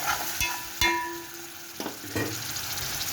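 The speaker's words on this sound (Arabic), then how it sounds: "تقليبه بس عشان تشوفي ايه الصلصه بتاع الذره الجميله ده" Corn sauce frying in a pan as it is stirred, a steady soft sizzle with a few scraping, clinking spoon strokes, close by and alone.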